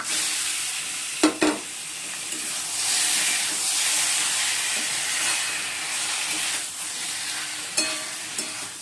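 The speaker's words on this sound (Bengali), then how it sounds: "এবার মাছগুলো দিয়ে দেবো।" Fish dropped into hot spiced onion paste in a frying pan gives a steady, close, loud sizzle and hiss, with a few sharp spatters and stirring clatters near the start and end; nobody speaks.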